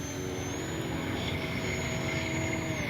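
An E-flite Cherokee RC airplane takes off, its electric motor giving a steady, fairly faint propeller hum with a high whine throughout, heard at a distance outdoors.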